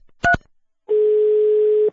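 Modern telephone keypad tones: two quick close beeps followed by a pause, then one steady, loud, sustained tone lasting about a second, clean and alone with no voices.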